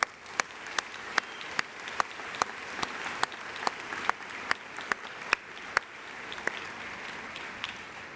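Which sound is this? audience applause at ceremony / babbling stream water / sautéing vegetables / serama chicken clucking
audience applause at ceremony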